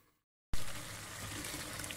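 Water is poured into a hot pan of peeled turnips fried in desi ghee, bursting into a loud, sudden sizzle that settles into a steady hiss after a brief silence.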